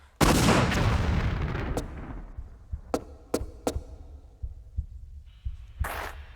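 Gunfire in a Tomb Raider level editor game aimed at a node, a loud opening blast followed by a few sharp separate shots and lighter thuds, heard close.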